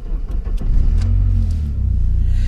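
A Vauxhall Astra fitted with a Saab engine idles with a deep, steady rumble close by, with a few blips of the throttle early on before settling into an even drone.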